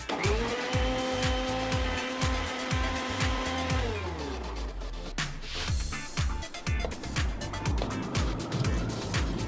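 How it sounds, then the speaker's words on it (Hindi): A kitchen mixer grinder runs with dish liquid soap and a little water in its jar, a loud steady motor whine that shifts pitch and slows partway through, then continues churning with rhythmic knocking. "इसमें आप डिश लिक्विड सोप ले लीजिए और थोड़ा सा पानी डाल के उसे मिक्सी में लगा दीजिए।"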